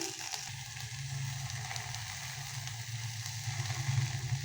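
Grated coconut, basale greens, green chilies, cumin and mustard seeds fry in a pan, a soft, fairly faint steady sizzle with light crackle that swells slightly toward the end.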